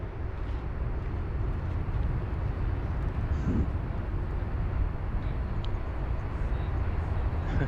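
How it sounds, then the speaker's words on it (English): A United Boeing 787-9 Dreamliner departing Sydney Airport roars as a broad, steady jet rumble at a distance, even and unbroken throughout. "There is one of our next departures, United 842, heading to Los Angeles, the Dreamliner 787-9"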